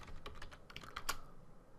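Quiet typing on a computer keyboard, a short run of light, close key clicks with a slightly louder final tap.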